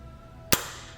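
A firearm dry-fires onto a snap cap during a function check, giving one sharp, close metallic snap that cuts through an otherwise quiet moment.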